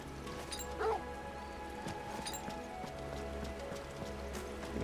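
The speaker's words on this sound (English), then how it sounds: "the dog is attacking automatically even without me saying nothing" A dog companion in Final Fantasy XVI attacks during a fight, giving a short sharp bark or yelp over steady game ambience, with brief hits and clatter mixed in.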